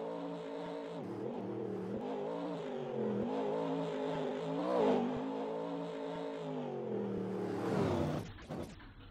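A monster truck engine in a fan-made monster truck video game revs in a sustained, harmonic drone with rising and falling pitch, swelling midway and cutting off abruptly near the end, with no talk over it.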